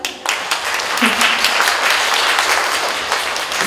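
An audience applauds after a children's theatre performance of a Wizard of Oz story staged in Cimișlia, steady dense clapping filling the room for several seconds, with a brief voice briefly audible near the start.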